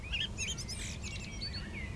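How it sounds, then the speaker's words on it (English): Several blackbirds sing and chirp nearby in short, fluting phrases over a low outdoor rumble on a clear evening, with no voices. "there are blackbirds singing everywhere"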